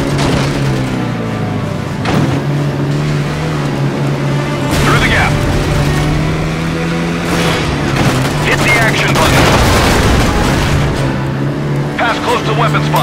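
Explosions and weapons fire in the driving stunt video game Stuntman Ignition, loud booms and bursts of gunfire over a steady engine hum, with a voice giving instructions over it.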